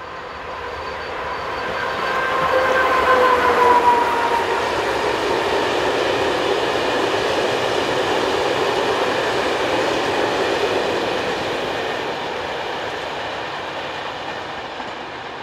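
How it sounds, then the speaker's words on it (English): A Czech class 130 locomotive hauls loaded stone hopper wagons in the Elbe River valley near Usti nad Labem, a steady rumbling roll of wheels on rail that swells as it passes nearby and fades slowly, with a brief faint squeal early on. "SKKD's 130-046 heads north on loaded stone hoppers at just after 2:30 on the afternoon of the 21st of June 2016."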